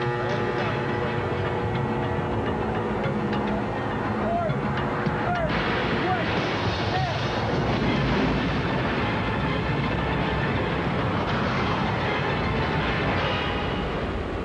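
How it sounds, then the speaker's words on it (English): A train on a film stunt set starts moving, a continuous heavy rumble with rolling mechanical noise and occasional squeals, steady and loud throughout. "when I push this lever over this way, that train sitting up there is going to take off."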